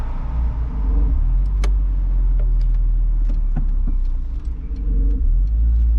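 A Honda S2000 with a manual gearbox and short shifter pulls away, its engine a loud, steady, close rumble that runs unbroken through the clip with light clicks over it.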